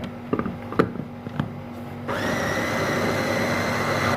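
An electric grinder starts up and runs steadily, grinding semolina with sesame seeds, a loud continuous whir after a few light knocks and clatters.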